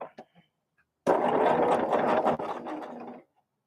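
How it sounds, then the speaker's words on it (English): Sewing machine stitching a quilt block for a basket-pattern quilt, a loud continuous motor run of about two seconds after a few faint clicks, then stopping abruptly. "Now, let's get back to sewing."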